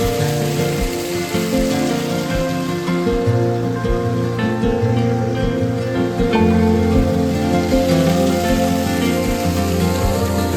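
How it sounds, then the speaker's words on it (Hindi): A large mountain waterfall on the forest footpath to the Neelkanth Mahadev temple near Rishikesh, swollen with monsoon water, pours in a loud, steady rushing roar that runs unbroken throughout, with a rhythmic thumping pattern sitting over the water. "रास्ते का पहला और सबसे बड़ा झरना"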